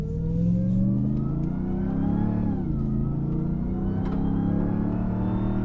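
A Ram 1500 TRX truck in Baja mode accelerating hard off-road, its deep engine roar rising and falling in pitch as it revs through gears, loud and continuous inside the cab.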